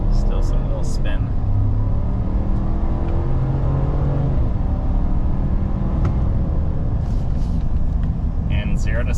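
A 2023 Chevrolet Silverado LTZ launches from idle at roughly 4,000 feet of density altitude, its tires breaking loose. A loud, steady engine roar and rumble fills the whole stretch, with a faint voice underneath.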